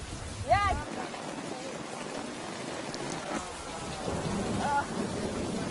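Torrential tropical rain in Hawaii with thunder: a steady hiss of heavy rainfall, a low rumble of thunder near the start, and a few faint bird-like chirps over the downpour.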